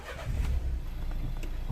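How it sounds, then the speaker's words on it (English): A Renault Megane III 1.5 dCi diesel with an engine failure hazard fault cranks and fires up, settling into a low, steady idle rumble close by with no talk. "Let me start the car."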